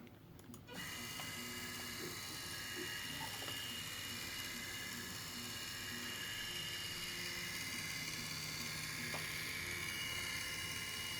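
A Maslow CNC router's Z-axis motor raises the bit 3 millimeters with a faint, continuous mechanical whirring and ratcheting hum under a steady background noise, no talk.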